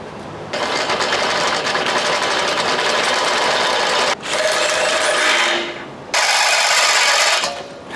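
A power drill whines loudly in long, sustained bursts, drilling out bolt holes for an axle mount on a Chevy Avalanche, cutting out briefly twice before starting up again, with a gritty, grinding edge.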